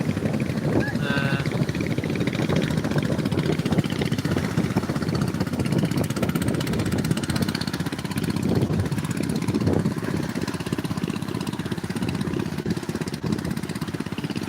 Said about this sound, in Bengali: মাত্র আরেকটা নৌকা বের হয়েছে খাল থেকে